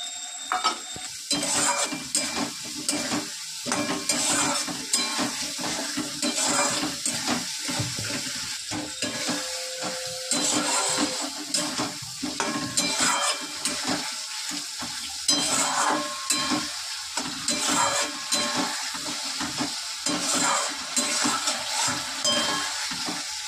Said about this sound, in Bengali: এই মশলার পেস্টটা দিয়ে দেবো।